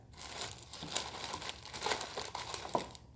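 Hair coloring foils are handled and folded at close range, producing continuous crisp crinkling and rustling that stays loud throughout the short stretch.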